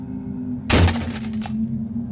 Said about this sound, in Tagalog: Parang may bumagsak na kung anong mabigat sa bubong.